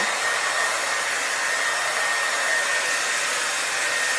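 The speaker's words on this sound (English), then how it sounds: "So I can take my blow dryer and blow dry it until it stands up." A blow dryer on a low setting drying short natural hair gives off a steady, unbroken whoosh of rushing air, close and even in level throughout, with no voices.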